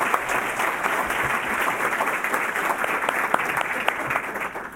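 A warm round of applause from a club luncheon audience greeting the host, a newspaper editor, with dense, steady clapping throughout and a faint murmur of voices underneath.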